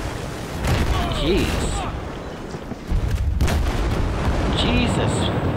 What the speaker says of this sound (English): Is that guy really shooting?